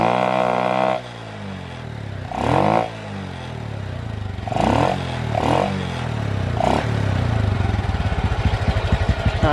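Motorcycle engine cranked by its electric starter, catching after a short whir, then running at a steady, even idle up close, with a couple of brief revs. The bike has a stalling fault after riding about 100 meters.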